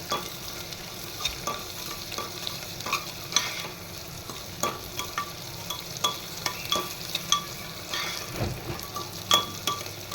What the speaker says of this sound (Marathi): हे पहा, छानपैकी अशा भाज्या आपण मस्त तेलावर परतवून घेतल्या आहेत.